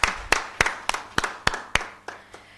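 Sparse audience claps at a girls' summit on child marriage, about nine distinct hand claps in a slowing rhythm over a couple of seconds, fairly close and with no talk.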